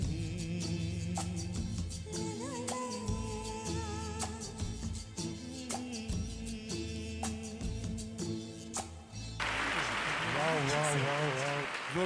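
Applause breaks out from an audience at a charity music show in Mumbai after a singer finishes a song. Dense clapping swells near the end over fading instrumental music.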